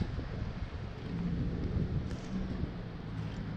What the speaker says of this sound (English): Still raining a little bit, but not as hard, so that's great.